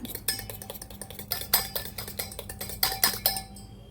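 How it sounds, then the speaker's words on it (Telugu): Egg batter with garam masala and red chilli powder being beaten in a bowl for a mushroom omelette, a quick run of sharp clinks and taps as the utensil strikes the bowl's sides, close and steady with no talk. "I'm adding some garam masala powder, red chilli powder కూడా యాడ్ చేసుకొని ఇలా బాగా బీట్ చేసుకోవాలి"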